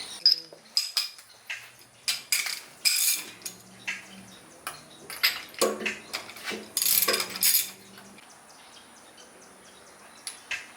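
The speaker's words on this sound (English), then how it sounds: "I'm gonna go ahead and take the spark plug out and see if that thing's sparking." Spark plug being worked out of a Yamaha XJ750 motorcycle engine: sharp metallic clicks and clinks of a socket wrench, ratcheting in short irregular bursts with pauses, close and fairly loud, no voices.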